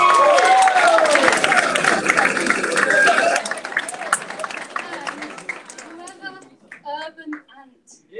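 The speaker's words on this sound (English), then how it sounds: "So I'd like to also give us applause to Davina." An audience at a city data hackathon results event applauds, with dense, loud clapping for about three seconds that thins out and fades as scattered claps and voices remain.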